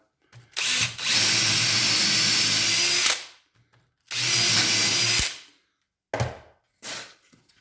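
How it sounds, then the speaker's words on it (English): A power drill whirs loudly boring shelf-pin holes in a wooden cabinet in two sustained bursts, followed by short clunks and a brief rev, with quiet pauses between. "Drill our next hole."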